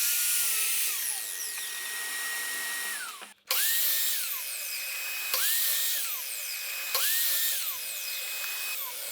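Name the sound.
miter saw cutting wooden boards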